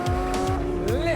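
A white Porsche GT3 RS road car drives with a steady harmonic engine note that climbs in pitch toward the end, close and loud.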